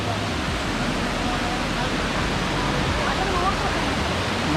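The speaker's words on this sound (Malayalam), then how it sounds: "അത്യാവശ്യം നല്ല വലുപ്പമുള്ള വെള്ളച്ചാട്ടമാണ്." Elappally waterfall in Idukki near Vagamon, a large fall dropping from a good height, gives a broad, steady rushing roar without a break.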